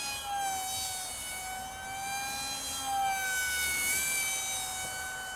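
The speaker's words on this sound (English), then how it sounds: "this noise, I mean, it's really piercing in your ears" Esky Eyas RC airplane motor and propeller giving a piercing, steady high-pitched whine, close and loud, wavering slightly in pitch as it runs, with no talk.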